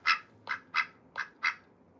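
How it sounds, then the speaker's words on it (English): Pet duck kept indoors among other birds, giving five loud, close quacks in a steady rhythm, each short and raspy, with no one speaking. "She's my only duck."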